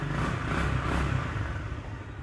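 A Suzuki FX 125 motorcycle with a 125cc DOHC engine idles steadily nearby, a continuous low mechanical rumble with slight unevenness, no talking.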